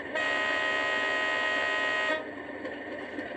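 A loud, steady low-tone air horn from an OO gauge Class 37 diesel-electric model locomotive sound system blasts for about two seconds, then cuts off, leaving a faint rumbling background.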